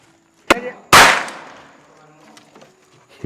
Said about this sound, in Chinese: 这是大哥自己买的一个神器，就像一把枪一样的， 它每一个钉子就像一颗子弹的